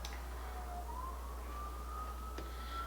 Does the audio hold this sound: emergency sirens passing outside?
yes